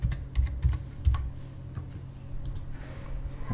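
Keys clatter on a computer keyboard as a folder name is typed in a quick burst of close clicks, trailing off into a few scattered taps.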